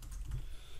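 Keystrokes on a computer keyboard while entering Python commands for a Django project, a short run of light clicks, close and fairly quiet, with no talking.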